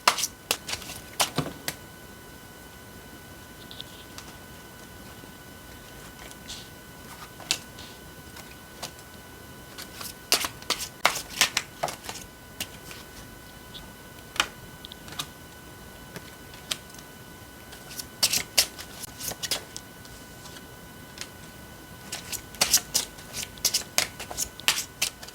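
Tarot cards shuffled by hand, giving repeated crisp riffling and slapping bursts in irregular clusters, fairly close and clear against a quiet background with no talking.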